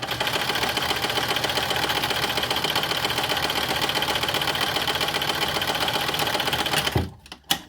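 A sewing machine stitches fabric, sewing back toward an opening, in a loud, close, steady run of fast needle strokes that lasts about seven seconds before stopping with a couple of final clunks.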